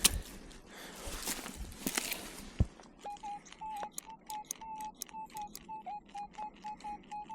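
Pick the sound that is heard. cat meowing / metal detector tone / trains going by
metal detector tone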